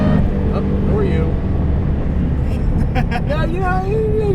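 A 2003 Mustang Cobra on quiet mufflers drones steadily while driving, its loud engine and exhaust note holding a constant roar, with a voice talking over it near the end.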